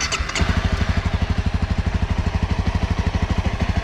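A 2019 Honda CRF250L motorcycle fires up on its electric starter with a brief whirring burst, then settles into an even, rhythmic single-cylinder idle, close and clear with no talk.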